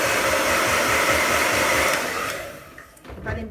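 A hair dryer blows loudly and steadily to dry paint on a realistic fried-egg painting, then winds down partway through, leaving softer scattered sounds.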